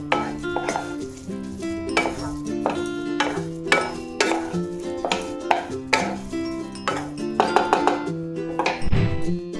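A cooked sweet mixture with cardamom being scraped out of a wok into a dish, with rapid clanking and scraping of metal against metal in a steady, busy rhythm.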